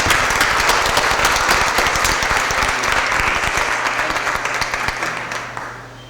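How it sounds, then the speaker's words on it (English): At a Board of Aldermen meeting, a room applauds an honoree with dense, loud clapping from many people that holds steady and then gradually fades toward the end. "Let's give her a big round of applause"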